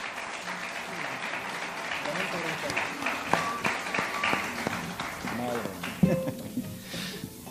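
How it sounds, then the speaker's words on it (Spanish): Warm audience applause at a solo singers' concert follows a song, broad clapping running throughout with a few whistles and brief voices surfacing above it. "fuerte el aplauso"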